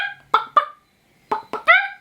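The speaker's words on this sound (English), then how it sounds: "The only sound is the sporadic clucking of chickens." Chickens in the Shadow and Bone game give sporadic, close, harmonic squawks in short clusters, two quick calls, a pause, then three more.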